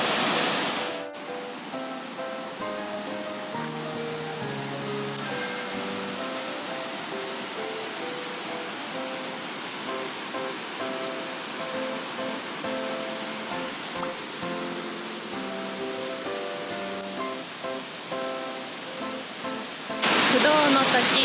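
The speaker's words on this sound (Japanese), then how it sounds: "不動の滝、こんな感じです。" A dense, rushing roar of the Fudo waterfall in Hachimantai, Iwate, heard beside the falls in a forested setting. It is loudest at the start and end, with tonal music laid over the water noise in between.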